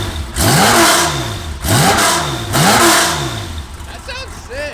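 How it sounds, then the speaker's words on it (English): A Porsche 964 engine barks through a titanium GT2RS exhaust in three quick, loud revs up close, each rising sharply then dropping back to idle, with brief talk at the end. "just give it a couple of quick little revs"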